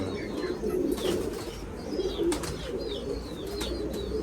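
An old pigeon, a decades-old loft bird, coos in soft repeated low phrases close by, with faint chirps and a brief wing flutter in the background.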